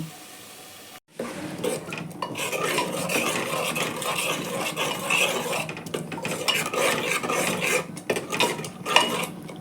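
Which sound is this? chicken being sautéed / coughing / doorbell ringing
chicken being sautéed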